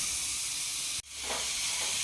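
Grated carrot hits hot ghee in a kadai, giving a steady steamy hiss that dips for a moment near the middle and then surges back into a bright, continuous sizzle.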